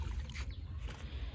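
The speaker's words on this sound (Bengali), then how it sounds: "নৌকাত করে পার হচ্ছে এখন নদী" A small boat crosses a river, with a faint low rumble and quiet water movement over about a second, with no talking.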